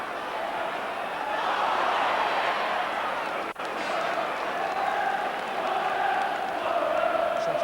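A football crowd at Ayresome Park, Middlesbrough's stadium, roars and chants continuously at a distance, with a brief dip midway before the massed noise swells again.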